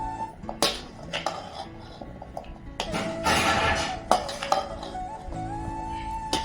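Oil-coated raw mango pieces for a mango sesame pickle being tossed and mixed in a metal bowl, with close, irregular clinks, scrapes and rustles from a spoon or hand against the bowl.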